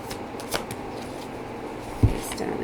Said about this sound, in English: I'll also keep shuffling to get another overall.